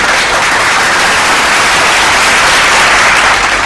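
Loud, dense applause from a crowd, a steady wash of many hands clapping at once that holds at an even level from start to finish, with no voices over it.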